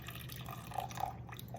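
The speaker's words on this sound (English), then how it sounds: "I'm gonna add a little bit more water to this" Water is poured into a hot water cornbread mixture in a kitchen, a brief, faint, close trickle with soft drips.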